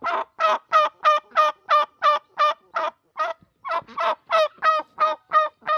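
A turkey gobbles in a fast series of rhythmic, rattling calls, a brief pause, then another burst, loud and close with no speech.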